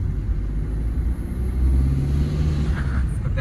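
A Maruti Swift car drives in second gear while its driver checks a gear problem, giving a loud, steady low engine rumble and road noise from inside the cabin, with a slight rise in pitch partway through.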